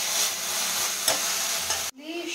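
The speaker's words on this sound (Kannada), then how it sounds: "ಸೊ ಇವಾಗ ಪುದೀನ ಸೊಪ್ಪನ್ನ ಫ್ರೈ ಮಾಡ್ಕೊತೀನಿ." Mint leaves and coriander fry in a hot pan with a steady, close, broadband sizzle and occasional stirring clicks, cut off abruptly near the end by quieter room tone and a faint tone.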